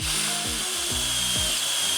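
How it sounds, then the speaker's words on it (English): Short bursts of a cordless power drill driving hardware into a DIY vertical garden frame, the motor whirring up and down in quick repeated pulses, close and loud with no talk. "The good news is that this is the only like hardware you need is this drill."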